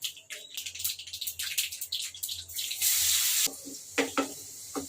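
Crushed garlic drops into hot oil already holding cumin and fenugreek seeds, giving a close, bursty sizzle with scattered crackles and a brief louder surge near the end, under a low hum.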